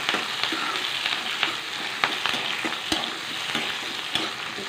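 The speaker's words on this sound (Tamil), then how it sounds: "நல்லா வதக்கிக்கலாம்" Tomatoes and curry leaves sauté in a pan for a Tamil egg kuzhambu, with a steady close sizzle and repeated scraping stirs throughout and no talking.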